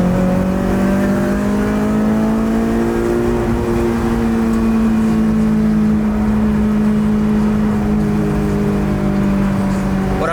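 A Honda S2000 driving with a suspected exhaust leak, its engine holding a steady, loud droning tone with a slight pitch rise and fall under continuous road and wind rush, heard from inside the car.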